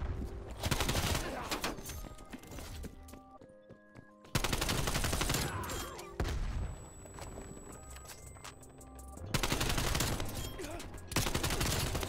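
AK-74u submachine gun fire in Black Ops Cold War, long loud automatic bursts separated by short pauses, with game noise between them.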